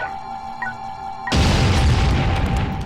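A self-destruct explosion in the video game Messiah: a quiet hum with a faint electronic beep, then a sudden loud boom that roars on as a dense rumbling blast.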